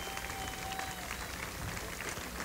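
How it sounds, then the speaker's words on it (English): Crowd at the Tulip Time parade in Holland, Michigan, applauding the Vietnam Veterans of America as they march past: a steady wash of clapping and crowd noise from many people, continuous and moderately loud throughout. "The crowd stands and applauds as the Vietnam Veterans of America pass by."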